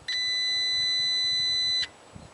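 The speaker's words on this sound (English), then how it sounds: "Touch the two probes together to make sure that the digital multimeter continuity setting is working, which will make a beep sound." A digital multimeter set to continuity gives a single loud, steady electronic beep lasting almost two seconds when its two probes touch, with no other sound.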